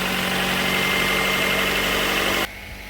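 A Honda car engine idles smoothly, a steady, even rumble heard close and alone that cuts off abruptly near the end.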